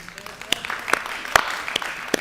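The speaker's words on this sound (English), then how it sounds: "Hey, don't get tired of clapping." Audience at a health talk on losing smell and taste clapping in sparse, scattered bursts of hand claps, with a voice speaking over the applause.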